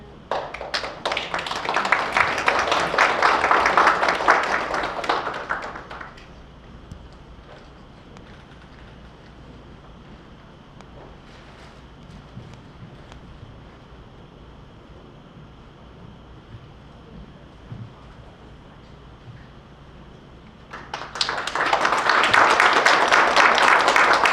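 Audience applause at a literary new-writer award ceremony: a full burst of clapping for about six seconds, then a quiet room, then a second loud round of applause near the end.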